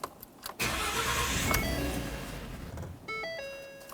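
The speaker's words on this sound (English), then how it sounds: "let's go ahead and start up the vehicle" A 2015-2020 Ford F-150 being started after fuel pump work: a short crank catches into a loud engine roar that fades and dies away, followed by a run of electronic warning chimes from the cab.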